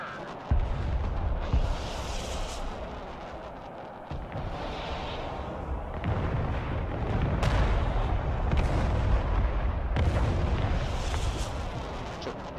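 Artillery fire in the Broken Arrow war video game, repeated heavy booms and rumbling blasts spread through the clip, dense and continuous over a noisy battlefield background.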